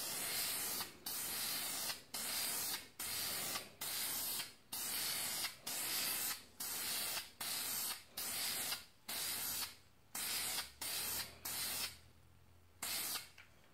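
A spray gun lays primer onto a Ford hood in a masked-off area, hissing in a rhythmic run of short bursts about a second apart, each clipped off by a brief pause, close and alone.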